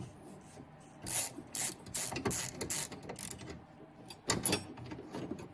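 Plastic retaining clip being pried loose on a Chevrolet Impala's third brake light mount, giving soft scraping, rubbing and ratcheting clicks in several short bursts, close and fairly quiet with no talk.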